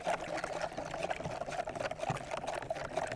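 Water and granulated sugar are stirred together for homemade hummingbird food, giving a continuous close liquid swishing and sloshing that runs throughout with no voices.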